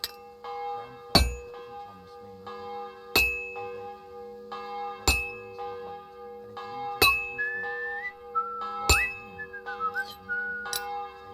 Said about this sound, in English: The bell's ringing for hands the 5th time.